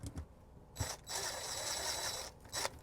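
A ratchet working on a transmission bolt of a 2017 Toyota Land Cruiser 200 series with about 86,700 miles: a few short clicks, then a long steady run of ratcheting, ending with a brief burst. Close and moderately quiet, with no talk.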